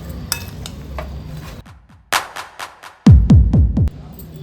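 A metal spoon clinks and scrapes against a bowl as ground masala is added to pork for Coorg-style chilli pork, with a few sharp clatters and a quick run of loud knocks near the end.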